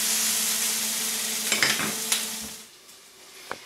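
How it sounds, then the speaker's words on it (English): Vegetables sauté in a pan for breakfast English muffins, giving a steady close sizzle that fades toward the end. A few sharp scrapes and clinks of a utensil cut through it. "So I'm just gonna let that continue to saute."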